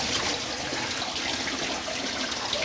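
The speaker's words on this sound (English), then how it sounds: "this water will actually come up and mix with the salt, and then it will go through these downspouts right here," Water rushing through rock salt and out metal downspouts at a county road brine-making setup, a steady dense hiss of flow, close and constant with no voices.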